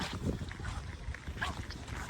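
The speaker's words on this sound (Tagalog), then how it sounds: "Mahangin nga." Gusty wind buffets the microphone while crossing a river, a rough, rumbling roar with shifting bursts, steady and close throughout, with faint voices beneath.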